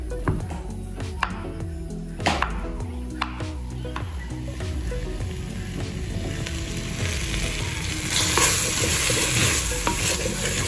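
Sliced banana fries beside bacon for feijão tropeiro in a clay pot on a wood-fired stove, with a steady sizzle under repeated scraping stirs and clacks of the spoon, and the frying swells louder toward the end.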